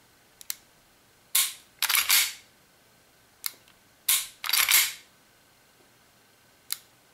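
Crisp trigger clicks from a WE 1911 gas blowback airsoft pistol, sounding as sharp mechanical snaps: a single click, paired bursts of break and reset, then another lone click, close up with no talking.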